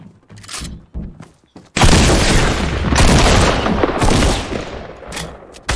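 Heavy shotgun blasts and booming gunfire in a multiplayer video game match, a few short sharp hits followed by a loud sustained roar of shots and explosions close up, with no one talking.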